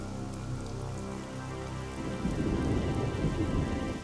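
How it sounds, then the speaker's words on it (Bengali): Rain breaks out over a village during a fierce storm, and from midway a dense, loud hiss of heavy rain with low thunder rumble swells over steady tonal background music. "মুখের কথা শেষ হতে না হতেই বৃষ্টি শুরু হয়ে গেল"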